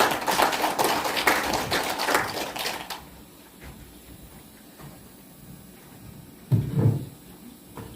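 An audience claps at a Korean book-launch ceremony for a collected sijo poetry edition, a dense round of applause for about three seconds that fades to quiet room noise, then a brief thump of handling.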